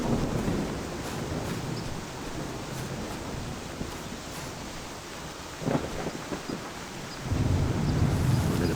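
Steady rain falls with low rumbling thunder in a farming video game, a continuous wash of noise with a heavier surge near the end and no voices.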